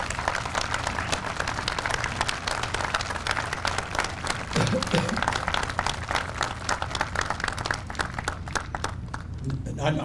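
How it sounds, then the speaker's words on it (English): Steady audience applause at an Indianapolis Veterans Day ceremony in honour of General Stu Goodwin, a dense wash of clapping held for about ten seconds at moderate distance, with faint talk underneath. "Let's give him a round of applause for his great."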